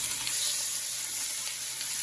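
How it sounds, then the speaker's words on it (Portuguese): Bacon and white pork fat sizzle in a preheated pot with a drizzle of olive oil, a steady dense crackling hiss close by and alone, with no pauses. "Coloco numa panela já aquecida um fio de azeite e começo a refogar as partes mais gordurosas"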